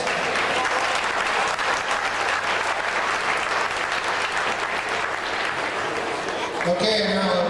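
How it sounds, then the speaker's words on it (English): A crowd at a men's all-star basketball game gives loud, continuous applause that holds evenly before cutting off near the end, where a voice begins over the arena PA. "Let's give them a nice round of applause."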